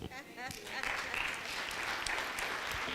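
Conference audience at a biodiversity economy and investment indaba breaks into steady, dense applause that swells after a short opening voice and holds evenly to the end.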